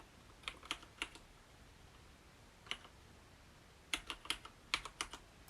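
Soft, close typing on a Hansung GK993B keyboard fitted with Cherry red switches: a short burst of keystrokes, a lone press after a pause, then a quicker run of clicks in a quiet room.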